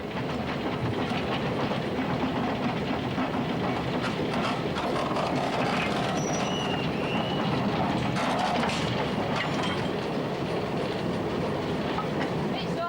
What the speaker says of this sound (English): In this scene, the loco works in Swanwick Yard with unexpected results.